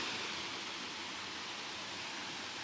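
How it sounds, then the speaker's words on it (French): River rapids pouring over rocks about thirty metres from a waterfall, a dense, even hiss of rushing water, steady and unbroken throughout, with no talking. "le son de l'eau qui coule sur les roches est céleste"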